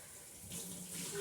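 Water runs from a kitchen sink tap in a soft, steady hiss that grows a little fuller toward the end, quiet and close, with no one speaking.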